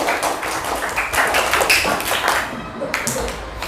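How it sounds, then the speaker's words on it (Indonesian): A class of students applauds a presenting group, brief scattered hand clapping and taps close by, mixed with voices talking over it. "Tepuk tangannya mana untuk kelompok 4."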